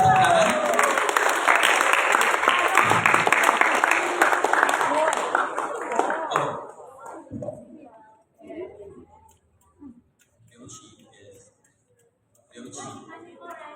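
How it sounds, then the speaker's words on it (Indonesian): Audience applause at a final Indonesian-language middle school debate in 2024, loud and sustained for about six seconds, then fading into scattered quieter sounds and brief talk. "Bisa beri dia tepuk tangan"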